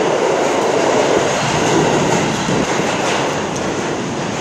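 A New York City subway train rumbles loudly and steadily through Canal Street station near Chinatown, a dense continuous roar of wheels and motors with no voices.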